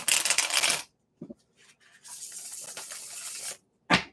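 Witches Tarot deck shuffled by hand close up: a long papery riffle, a couple of brief taps and rustles, then a sustained stretch of shuffling and a final quick flick, with no talking.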